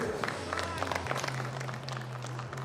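A crowd at an IFSC European Championships combined bouldering qualification in Moscow applauds and cheers, a dense, fairly faint wash of clapping with a steady low hum beneath it.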